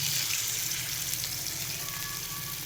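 Spice-washing water is poured into a simmering mustard fish curry in oil, giving a steady close sizzle and bubbling hiss that runs without a break and has no talking over it.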